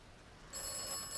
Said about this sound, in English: The phone box gonna go off?